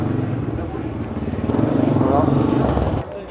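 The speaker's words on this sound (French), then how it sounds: "il y a une moto qui était venue juste à côté de moi" A motorcycle riding right alongside on a street, its engine a loud close rumbling drone that swells and then cuts off, with someone talking over it.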